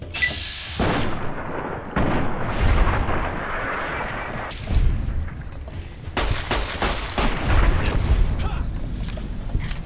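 A hand cannon fires in Fallout: New Vegas as a series of loud, booming gunshots with sharp cracks and ringing echoes spread unevenly across the stretch, mixed with game combat noise.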